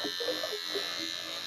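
An electric beard trimmer runs with a steady, fairly quiet buzz while a voice speaks briefly over it nearby.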